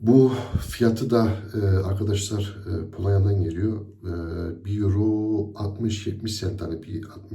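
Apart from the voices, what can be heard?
No everyday noise stands out behind the speech.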